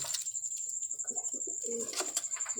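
Pigeons coo in soft, low calls close by, over a steady high-pitched hiss.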